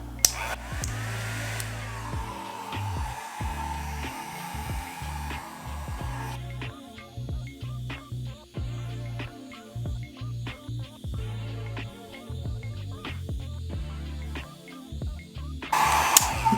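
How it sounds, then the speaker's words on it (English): A handheld heating tool set to low blows a steady whooshing roar over paper, running close and continuous for most of the clip with brief pauses in its airflow. "I kind of want to bring in my heating tool just to see what happens."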